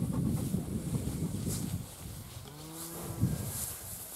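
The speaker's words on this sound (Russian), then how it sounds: "Ох, они коровы-то какие, да?" Cattle moo at a distance over steady outdoor wind noise, with one low, drawn-out call rising near the end.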